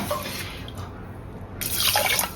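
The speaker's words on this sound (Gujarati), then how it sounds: "હવે હું એને એકદમ સરસ બે પાણીથી વોશ કરી દઈશ" Rice and lentils for a vegetable khichdi are rinsed in water: soft sloshing and trickling that quiets briefly, then swells into a louder splashing rush near the end, close up with no talk.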